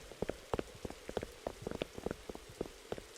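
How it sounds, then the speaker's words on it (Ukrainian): Rain falling in the Roblox game Disaster Island, heard as scattered soft drops and ticks of varying loudness over a steady low wash, without talk. "Дощ. Починається дощ."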